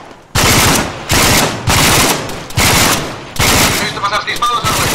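Loud, close bursts of rapid automatic gunfire in the video game Arma 3 come in repeated volleys separated by short pauses.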